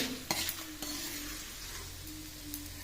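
Edible gum (dink) frying in ghee, a soft steady sizzle close by, with a few sharp metallic clinks and scrapes of a utensil against the pan, no talk.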